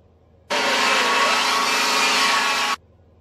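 An air tool with a carbide burr grinds metal in one loud, steady burst of just over two seconds, starting and stopping abruptly over a quiet background, with a compressor working to keep up.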